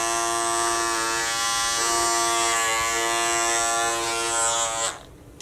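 An Andis Master hair clipper runs with a loud, steady electric buzz at close range for about five seconds, then cuts off abruptly into near silence.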